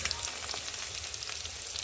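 Potatoes fry in a pan with a steady, dense sizzle of hot oil, crackling evenly and close by with small pops throughout.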